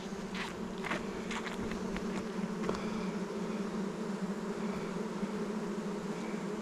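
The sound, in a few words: honey bees buzzing in an open hive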